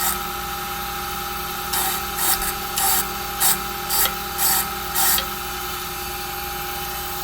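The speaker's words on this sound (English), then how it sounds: "on this key machine here, I just use it to clean a little bit" A key cutting machine cleaning a car key for a 2014 RAM, a steady high mechanical whine with a series of short, loud rasping grinds as the blade meets the key metal.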